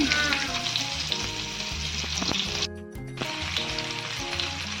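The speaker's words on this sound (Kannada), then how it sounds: "ಒಂದು ತವ ಇಟ್ಕೊಂಡು ಸ್ವಲ್ಪ ಕೊಕೊನೆಟ್ ಆಯಿಲ್ ಹಾಕಿ ಆವಾಗ ನಾನು ಮ್ಯಾರಿನೇಟ್ ಮಾಡಿಟ್ಕೊಂಡಿದ್ದ ಫಿಶ್ ಅದನ್ನು ಕೂಡ ಇಲ್ಲಿ ಫ್ರೈ ಮಾಡ್ಕೊಳ್ತಾ ಇದ್ದೇನೆ" Marinated fish frying in coconut oil on a tawa, a dense steady sizzle that is close and loud throughout, with a brief dip partway through and a few light clinks, and no voices.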